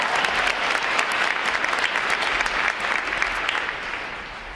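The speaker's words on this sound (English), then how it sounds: "Ladies and gentlemen, how about another round of applause for our award recipients?" Sustained applause from a large audience honoring award recipients at a Navy recruit training graduation, a dense steady wash of clapping that holds strong throughout and eases slightly near the end.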